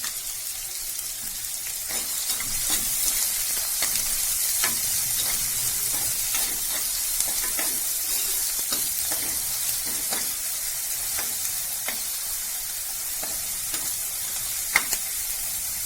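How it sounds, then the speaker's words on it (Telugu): Onions fry in a pan for brinjal coconut curry, a steady hissing sizzle with a spatula scraping and stirring at regular intervals, close and continuous throughout. "బ్రౌన్ కలర్ వచ్చేంత వరకు ఆనియన్స్ వేయించాలండి"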